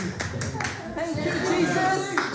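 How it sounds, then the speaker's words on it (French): A church congregation claps at an Easter Sunday service, a brief burst of hand claps mixed with voices and room noise. "Bénissons, applaudissons le Seigneur pour pasteur Diane."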